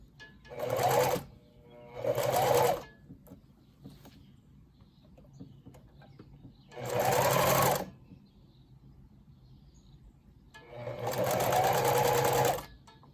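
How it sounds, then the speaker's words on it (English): Sewing machine running a zigzag stitch on a tutu skirt in four distinct bursts separated by quiet pauses, each a loud, close, buzzing run of stitching. "I'm gonna use the zigzag stitch on this skirt"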